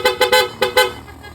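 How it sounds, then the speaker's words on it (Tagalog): A PIAA aftermarket horn fitted to a Yamaha Aerox V3 scooter sounds five loud, close honks in an uneven rhythm of short blasts, with no talking. "PIA horn."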